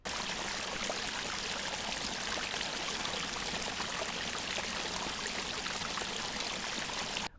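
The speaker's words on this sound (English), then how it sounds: "I start the recorder and grab some waterfall sound" Waterfall captured on a Saramonic SR-VRM1 XLR recorder: a constant, dense rush of falling water, steady and unbroken from start to finish, with no voices.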